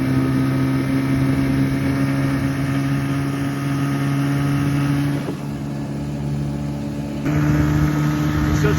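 A loud, steady drone from an Evinrude outboard boat motor running at full throttle, humming continuously with a brief dip midway before it surges back up.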